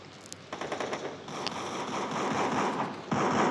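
Rapid gunfire in the mobile shooter game Free Fire, bursts of automatic shots crackling continuously and loudly over a dense background of game effects, with a sharper surge near the end.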